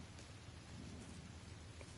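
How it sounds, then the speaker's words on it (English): Steady rain falls in a video game, a continuous soft hiss of drops with a low rumble underneath, faint and even throughout, with no voices. "It is raining."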